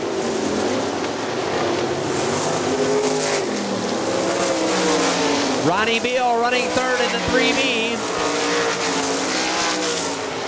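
Sprint cars racing on the dirt track at Hartford Speedway Park, a loud continuous roar of engines with cars revving and sweeping past, under a track announcer's commentary.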